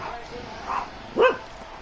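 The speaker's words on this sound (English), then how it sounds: "Sorry about my dog, guys." A dog gives two short barks indoors, moderately loud and close, during a basketball video game livestream.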